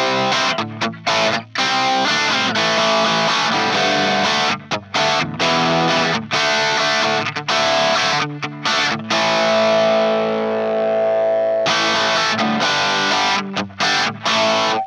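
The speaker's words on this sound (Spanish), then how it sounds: "Plexi 100. La verdad es que tiene un montón de ganancia." An electric guitar plays through a NUX MG30 Plexi 100 amp model set to high gain, a loud, dense distorted tone with chugging, choppy strums broken by brief stops and one sustained ringing chord.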